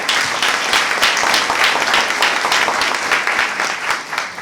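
A crowd at a bicentennial event in Pueblo Libre, Peru, applauds: loud, close, continuous clapping with crisp individual hand claps, holding steady and easing slightly toward the end.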